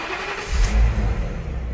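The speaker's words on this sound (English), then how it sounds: "the next step is fire up the truck." A truck engine fires up and runs, a low rumbling crank that swells into a brief rev before settling into a steady idle, close and loud.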